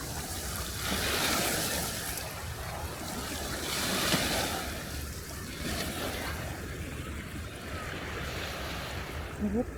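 Sea waves wash onto a small stony beach on the coast near Athens in a fresh breeze, a steady surf roar that swells and recedes in slow surges, with wind buffeting the microphone.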